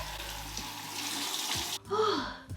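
Cold water runs from a bathroom sink tap and is splashed onto a face. A steady rushing stream is cut by a sharp gasping breath, then more close splashing.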